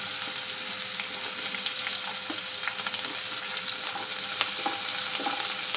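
Chopped garlic and chilli frying in a hot pan, a steady close sizzle with scattered crackles and pops throughout, no voices.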